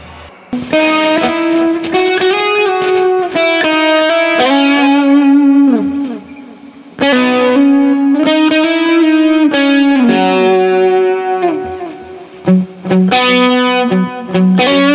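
An electric guitar runs through Amplitube 3 software with a Tube Screamer simulation, sounding loud and overdriven. Sustained notes and bent phrases ring out with a short pause midway, and no one talks over it.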